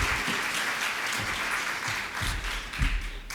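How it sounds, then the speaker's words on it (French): Audience applause at a parents' conference, a steady wash of clapping from a seated crowd that runs throughout at moderate loudness, with no speech over it. "applaudissements, s'il vous plaît"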